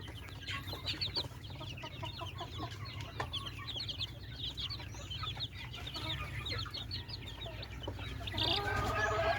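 Chickens and chicks at a gamecock farm cluck and peep in a busy, continuous chorus close by over a low background hum, growing slightly louder toward the end.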